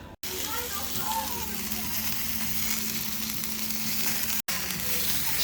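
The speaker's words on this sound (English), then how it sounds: "Snags and burgers on, brisket cooking for tonight." Sausages and burgers sizzle on a gas barbecue, a steady close crackling hiss that holds evenly throughout, with faint voices in the background.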